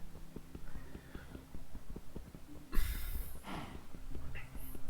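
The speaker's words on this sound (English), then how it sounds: "I hear a horse. Is there a horse nearby?" Minecraft horse nearby: soft rhythmic clip-clop hoofbeats repeating under quiet game sounds, with a brief louder burst of noise partway through, faint and low overall.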